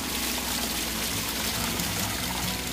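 Waterfall in a jungle river setting: a steady, close rush of falling water, a continuous broadband hiss and splash with no voices heard.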